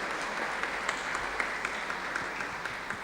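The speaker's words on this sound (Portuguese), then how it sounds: "Vamos aplaudir." Conference audience applauds in a hall, a dense patter of many hands clapping at moderate distance, steady for a few seconds without speech.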